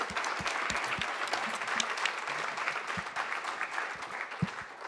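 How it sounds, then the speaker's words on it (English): Audience applause for artwork at a climate action panel event, an even patter of many hands clapping at moderate distance, fairly soft, with a few sharper nearby claps standing out. "One more time, a round of applause for all the great artwork."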